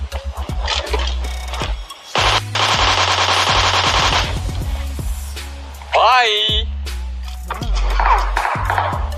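Rapid machine gun bursts crack in a shooter video game, long sustained strings of automatic fire broken by brief pauses, loud and close, with a player voice heard at times.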